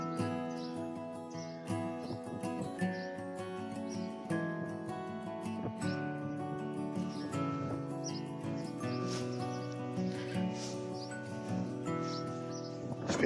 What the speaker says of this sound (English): The juveniles constantly calling for food.